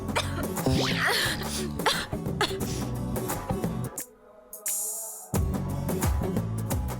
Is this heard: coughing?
yes